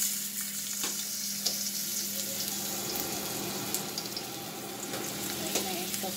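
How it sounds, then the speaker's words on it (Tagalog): Ginger sautéing in a pan for a lamb stew with beancurd stick, a steady low sizzle with occasional light stirring clinks, close and fairly quiet. "Igigisa ko siya sandali."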